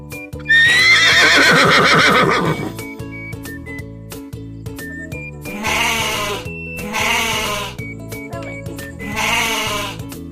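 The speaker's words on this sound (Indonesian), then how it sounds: "Bukan rusa, anak kambing." A young goat at a livestock setting bleats loudly and shakily once, then gives three more shorter bleats after a pause, close and clear with no talk over it.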